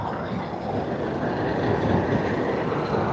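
A China Airlines airliner taxis toward the terminal at Sydney Airport, heard as a continuous, broad engine rumble that holds steady at moderate loudness.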